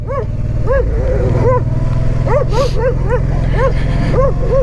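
Several dogs bark and yip in quick, high-pitched bursts, some sounding whiny, over the constant low engine rumble of a Honda Transalp 650 motorcycle.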